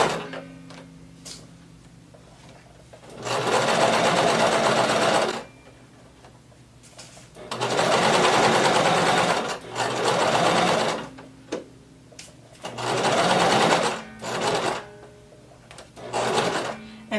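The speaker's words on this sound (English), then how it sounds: "we're going to sew up until we get to our large dot. So go ahead and lower your needle. Start sewing" A sewing machine stitches a shirt seam for a halter crop top. It runs in four loud, close bursts of rapid whirring, with short quiet pauses between them.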